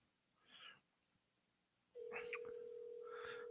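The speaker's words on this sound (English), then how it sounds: "See if little Lon Strickler answers his phone" Telephone dialing tones: after a soft short burst, a steady electronic phone tone starts abruptly and holds for over a second, with faint clicks and blips around it.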